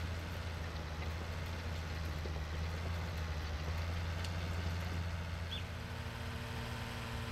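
Tractor engine idling in Farming Simulator 19, a steady low rumble with a constant hum that holds throughout, with no talk over it.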